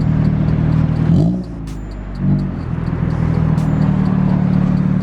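A lowered Honda Civic EK with new coilovers and full rear suspension driving off, a loud low idle-like engine rumble with two brief dips and throttle blips, steady and close throughout.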